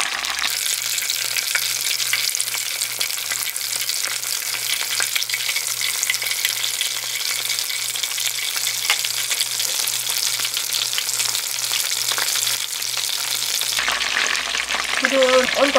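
Oil sizzles and crackles steadily in a small pan, a close, continuous frying hiss with a faint rhythmic pulse underneath, as eggplant fries.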